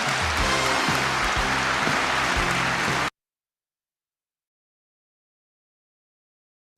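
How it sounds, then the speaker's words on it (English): An audience claps steadily after a business lecture, a dense, even wash of applause that stops abruptly partway through and leaves silence. "let's clap our hands to Chairman Mr. Park Gill"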